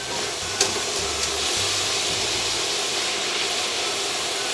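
Garden skillet vegetables sizzle steadily in a hot pan, a broad close frying hiss with a faint scrape or two as the pan is tossed.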